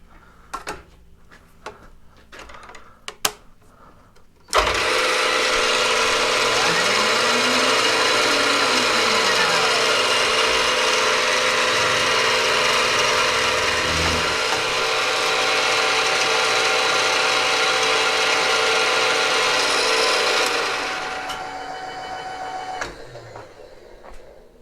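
A milling machine spins up sharply and runs cutting metal for spacer blocks and standoffs, giving a loud, steady whine and grinding for about fifteen seconds before it winds down.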